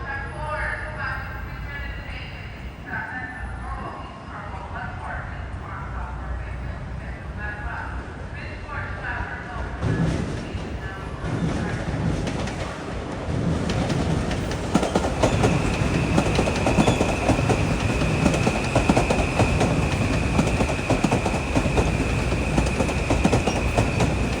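A Metro-North New Haven Line commuter train passing near Greenwich-Stamford, Connecticut, a building rumble with rhythmic wheel clatter that grows louder and stays close, a steady tone joining midway, with voices over it.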